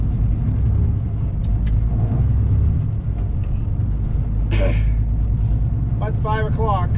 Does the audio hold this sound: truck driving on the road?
yes